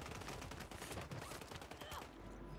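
Gunfire in the Warzone video game, a rapid clatter of shots heard fairly faint and dense, as if from a distance, with a quiet tail after the burst.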